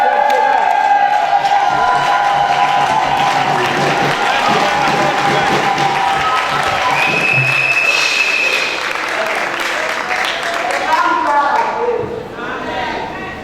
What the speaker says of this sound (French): Et applaudis